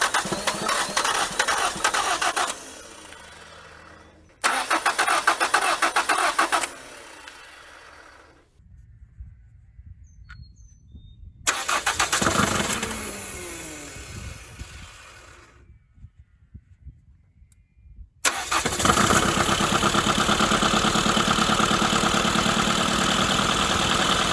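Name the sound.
1980 Dodge Colt Challenger engine starting and idling after carburetor install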